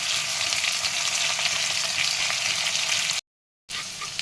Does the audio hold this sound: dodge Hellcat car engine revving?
no